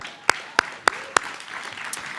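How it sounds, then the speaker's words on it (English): A lone person claps four times in an even rhythm at an alumni awards ceremony, each clap sharp and close, followed by a faint scattered spatter of crowd applause. "I'm going to clap for that"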